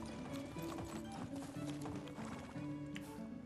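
Horse hooves clip-clop steadily and continuously while riding in the medieval life-sim game Medieval Dynasty, layered over a dense bed of background game music and ambience at moderate volume.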